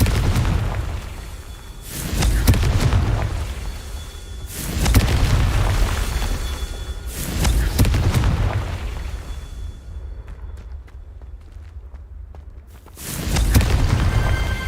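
Repeated fire explosion spells blast in Hogwarts Legacy, a video game: five deep booming bursts roughly every two to three seconds, each with a rumbling tail, and a quieter gap before the last one.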